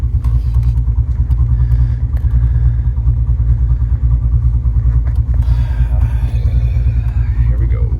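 A 426 Hemi V8 in a Dodge Challenger, already warm after idling, rumbles steadily and loud through a hot start, with a person talking over the engine noise.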